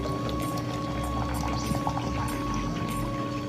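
Room temperature water pours steadily into a shaker bottle, a continuous close liquid splash and trickle that lasts a few seconds with no talking.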